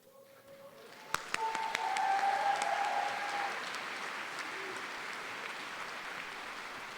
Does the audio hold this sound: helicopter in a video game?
no